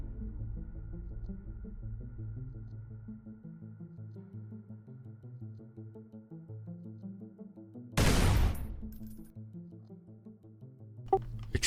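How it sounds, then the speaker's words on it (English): A single loud blast strikes around the middle, with a sharp crack near the end, over a steady low droning music bed; explosion and gunfire effects from a tabletop role-play game set in Dark Heresy, rocks being hit. "Explosions rip through the air, hitting the rocks behind you."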